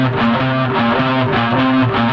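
An electric guitar with distorted tone plays the intro riff of a song, a sustained rocking back-and-forth pattern anchored low on the sixth string, loud and close with no talking.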